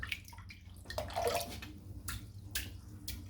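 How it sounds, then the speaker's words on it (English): Water poured over a puck of shaving soap to soak it, a soft splashing and trickling with a few light drips, close and fairly quiet. "So I've just soaked the soap with some water."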